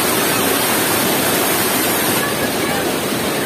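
Loud, steady roar of rushing water at a dam in Agusan del Norte, Philippines, broad and continuous like a torrent, filling the whole clip with no pauses.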